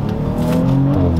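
A Porsche Panamera 4E hybrid, shifting from electric mode as the throttle is pressed, accelerates hard with a loud, close engine note whose harmonics climb steadily in pitch.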